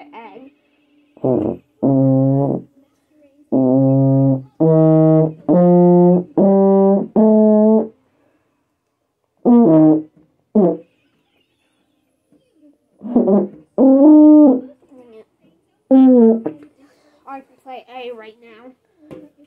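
A French horn plays a series of sustained, resonant notes, first in a steady run of held tones and then in shorter phrases separated by quiet pauses, sounding close and loud.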